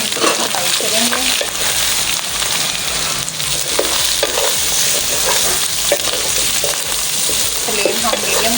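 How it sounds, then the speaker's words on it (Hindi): Minced mutton keema fries in a pan with chili, cumin, garam masala, black pepper, salt, dried coriander and ginger-garlic paste, giving a loud, steady sizzle under repeated scraping and stirring close by. "हम इसको फ्राई करेंगे।"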